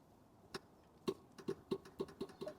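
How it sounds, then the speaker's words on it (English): Automotive relay in car wiring clicking repeatedly as the fan switch wires are touched together during an ST170 engine swap: a quiet series of sharp, evenly spaced ticks, about eight in a row, close by with no talk. "nothing, but the relay is clicking"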